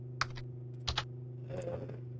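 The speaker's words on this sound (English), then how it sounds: "sometimes the typing thing gets a little bit annoying" A computer keyboard is typed on during a live stream: a few sharp, close key clicks in small clusters, then a softer flurry of keystrokes over a steady low electronic hum.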